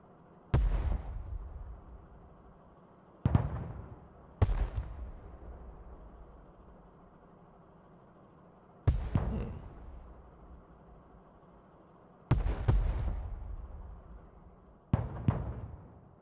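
Mortar rounds firing in the modern real-time strategy game Broken Arrow: six heavy, booming launches spaced a few seconds apart, each with a sharp onset and rolling decay over a low rumbling battlefield bed.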